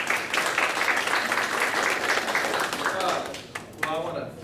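Dense audience applause fills a room at a Greater Hardin County Women's Network gathering, steady and moderately loud, then tapers off as voices come in near the end.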